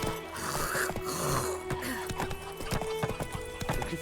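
Horse hooves clip-clopping at a quick pace in The Witcher 3 video game, with snorts and a whinny mixed in over a steady bed of game ambience and music.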